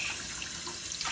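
Water runs steadily from a kitchen tap into a sink as food is rinsed off a dish, a continuous close splashing hiss with no voices.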